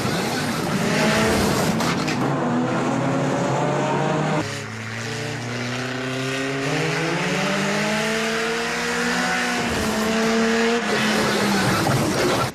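Banger racing cars rev and slide on a track, with a loud engine whine, tire noise and a sudden heavy impact partway through, followed by rising engine revs.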